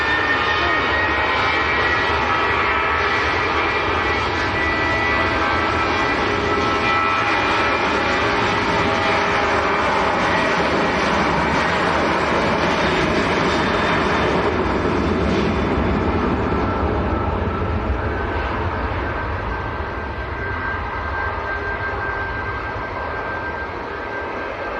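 Jet2 airliner bound for Antalya passing at Manchester Airport, a loud sustained roar of jet engines that swells and holds for about twenty-five seconds before easing slightly, with no voices heard.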